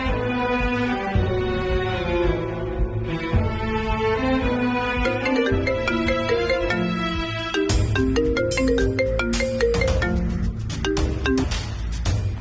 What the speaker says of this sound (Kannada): ನಾನು ರಚನಾಗ್ ಫೋನ್ ಮಾಡ್ತೀನಿರು